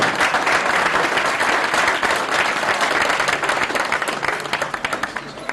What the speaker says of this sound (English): So please, can I have a big round of applause for Mr. Joe Egan and his partner, Will.